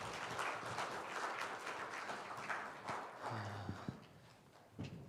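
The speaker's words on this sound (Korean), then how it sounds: "하나님께 영광 박수 올려드릴까요?" A church congregation at a Korean Bible revival meeting claps, with scattered, uneven applause that thins out over a few seconds, punctuated by a few louder individual claps and some low background sounds.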